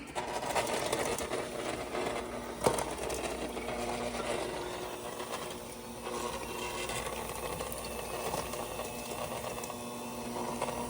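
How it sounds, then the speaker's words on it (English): An electric hand mixer blends cake batter with wet ingredients in a steady, close mechanical whir that runs throughout with a single brief knock partway through. "get it all incorporated using our hand mixer"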